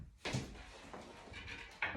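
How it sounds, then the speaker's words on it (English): An interior office door being shut: a couple of soft knocks and thuds as it closes, fairly quiet in a small room. "I'm going to shut that door."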